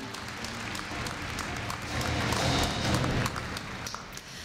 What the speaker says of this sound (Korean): 네, 축하 박수 부탁드립니다